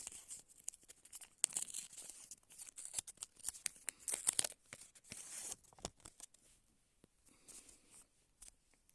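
Crinkly plastic tearing and rustling, with sharp rips and crackles coming in bursts, close and fairly quiet, then softer handling noises.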